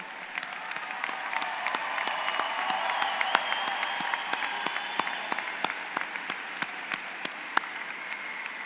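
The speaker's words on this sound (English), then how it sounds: "Let's give them all a big round of applause." A crowd at the Tooele High School graduation applauds graduates entering military service, a dense sustained clapping with sharp individual claps popping out, loud and steady throughout with no talking.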